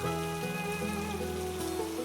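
Steady rain patters on a surface, a continuous wash of drops with sustained tonal music layered over it.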